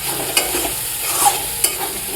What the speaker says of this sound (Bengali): দিয়ে এটা নাড়াচাড়া করে একটু জল দিয়ে দিলাম